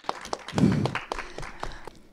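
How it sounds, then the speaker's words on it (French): Short burst of audience applause for a contest winner at a live painting show, clapping swelling briefly in the middle amid scattered taps, then thinning out. "Donc nous pouvons l'applaudir et nous avons un gagnant."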